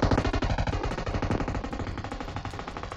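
Teammate's cover fire in a mobile shooter game: loud, sustained automatic gunfire in rapid, tightly packed bursts that run throughout with no talking.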